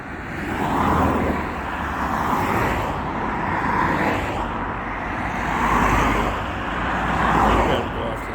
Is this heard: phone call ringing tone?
no